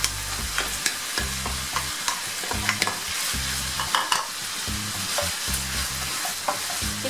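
Onions tossed into meat sautéing in a pan for konak kebab, with steady loud sizzling and repeated rhythmic scraping stirs throughout.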